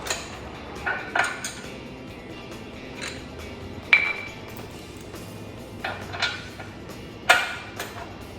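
A screwdriver lines up bolt holes and capture nuts are fitted on a winch plate behind the grille of a 2021 Jeep Wrangler Rubicon 4xe. Scattered metallic clinks and taps ring out over a quiet background.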